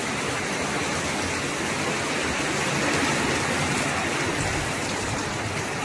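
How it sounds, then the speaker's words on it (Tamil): Heavy, steady rain pours down with no wind or thunder in a village in Dindigul district, Tamil Nadu, a dense, even hiss that stays constant and close throughout. "காற்று இடி மின்னல் எதுவுமே இல்லாமல் நல்ல மழை பெய்யுது."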